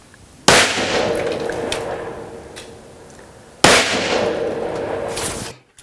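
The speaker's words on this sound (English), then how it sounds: "I'm going to be shooting 55 grain 223 ball through a 16-inch Daniel Defense AR-15." Two loud, sharp gunshots from a 16-inch Daniel Defense AR-15 firing 55 grain .223 ball ammunition, spaced about three seconds apart, each with a long echoing decay outdoors.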